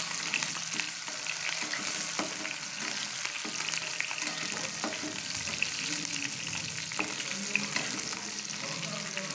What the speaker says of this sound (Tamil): வெங்காயம் வந்து நல்லா கோல்டன் கலர் வர மாதிரி நல்லா வதக்கிக்கணுங்க